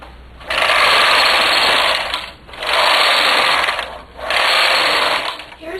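A Brother bulky knitting machine carriage sliding across the needle bed with a ribber attached, making three loud, steady whirring passes, each about two seconds long with short pauses between them.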